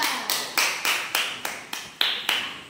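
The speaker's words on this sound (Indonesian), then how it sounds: "Beri tepuk tangan" A class of pupils gives applause in a primary school lesson, heard as a steady series of about nine evenly spaced rhythmic claps, fairly close and clear.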